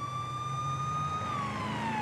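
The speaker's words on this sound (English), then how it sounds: "Sirens on." Police car siren in the video game Police Sim, a steady wailing tone that holds then slides lower, prominent over a low engine rumble, with no talking.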